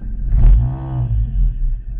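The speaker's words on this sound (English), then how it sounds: "I'll try and keep the revs at 1000 or just over" A Ford Escort engine with a faulty idle control valve runs close by, a low steady rumble with a brief rise in revs near the start, heard alone without talk.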